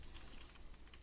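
Fast, light typing on a computer keyboard, a steady patter of close key clicks with no talk over it.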